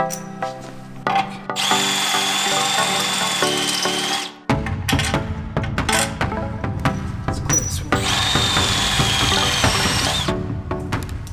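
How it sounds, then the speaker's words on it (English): Power drill boring a hole for a Jeep JL Wrangler front winch bumper, loud and sustained close up, with a brief pause around four seconds before drilling resumes at steady full load. "this one definitely needs to be drilled"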